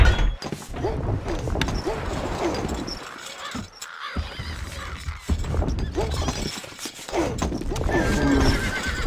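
In the video game Stronghold Crusader, a horse neighs loudly amid galloping hooves, with shouting voices and battle-like clatter layered over a busy, dense background.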